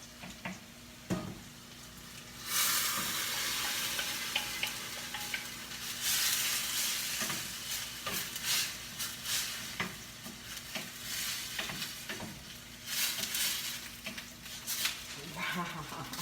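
Tomatoes hit a hot pan and sizzle loudly, with steady frying hiss and intermittent stirring scrapes close by, while people talk over it.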